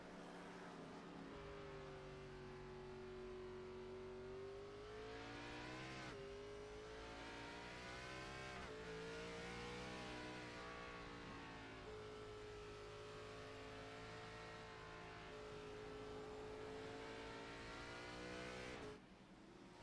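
A race car engine at Sonoma Raceway in iRacing howls at high revs, its pitch climbing and dipping through upshifts and throttle lifts in a steady rhythm, loud and continuous for the whole stretch with no talk.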